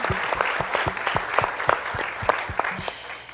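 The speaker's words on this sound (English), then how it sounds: "Please give him another round of applause." A moderate crowd at a Shark Tank–style ChangeMakers pitch event claps again for a judge, a steady patter of applause with distinct nearby claps, gradually tapering off at the end.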